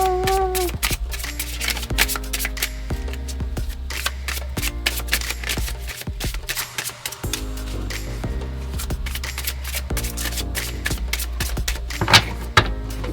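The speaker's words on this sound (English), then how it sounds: "Let me give it a quick shuffle." Tarot cards are shuffled repeatedly up close, a steady run of crisp riffling snaps and soft slides with brief pauses, over a faint background hum.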